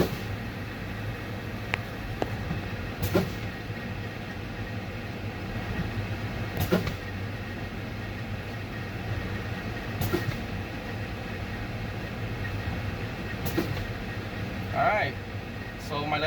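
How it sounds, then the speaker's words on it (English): A truck's air brakes are pumped repeatedly during a low-pressure warning test, giving sharp hissing releases every few seconds over a steady idling engine hum, with a person talking throughout. "For this test, you're going to be fanning the brakes."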